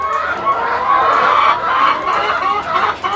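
Laying hens in a poultry flock cluck continuously and close by, many overlapping calls forming a steady, busy chatter with no talk.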